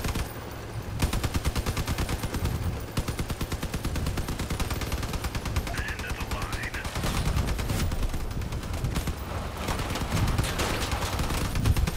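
Rear-mounted gun on a combat vehicle in the game Crossout fires in rapid, sustained bursts nearly throughout, loud and dense over engine rumble.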